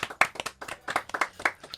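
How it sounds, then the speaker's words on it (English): Sparse hand clapping in a podcast studio, a short burst of uneven claps from a few people at close range, with no talking over it. "A big round of applause"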